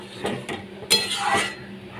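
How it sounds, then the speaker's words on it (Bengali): A metal lid set onto a cooking pot holding potatoes, ridge gourd and water, with a couple of light clinks followed by a brighter clattering clank as it settles, close and alone. "পাঁচ মিনিটের জন্য আমি ঢাকা দিয়ে রাখছি"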